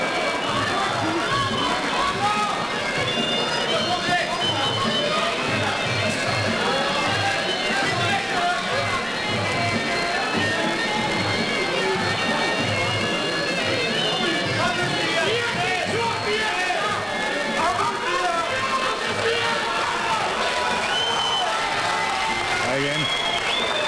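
Crowd at a Fight Arena MMA event cheering on the local fighter, a dense, continuous roar of applause, clapping and shouting that fills the arena for the full twenty-four seconds, with a commentator talking over it.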